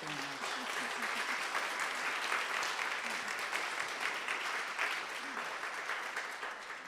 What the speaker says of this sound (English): that's worth another round of applause